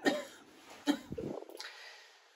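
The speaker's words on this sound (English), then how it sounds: "I have a cough." A person coughs two quick times, the second followed by a raspy throat clearing and breath, close and fairly quiet in a calm room.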